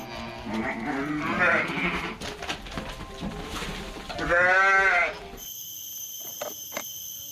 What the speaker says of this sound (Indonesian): ini adalah seekor domba